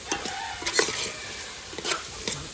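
Spices and masala gravy for a white shrimp dish cook in a pan, with steady close sizzling broken by the repeated scrape and clatter of stirring.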